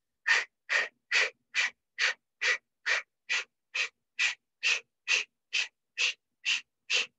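Fifteen short, forceful breaths pushed out in an even, quick rhythm during a yoga breathing exercise, each a sharp burst of air, close and clear with near silence between them.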